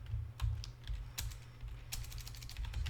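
Quick, light keystrokes on a computer keyboard patter in irregular bursts during a Unity programming session, soft and close against a low steady hum.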